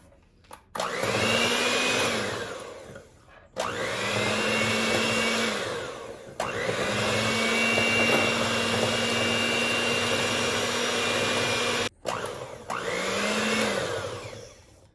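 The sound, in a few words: beating cake batter mixed with oil instead of butter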